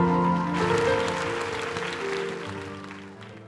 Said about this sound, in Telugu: చప్పట్లు కొట్టి దేవునికి స్తోత్రం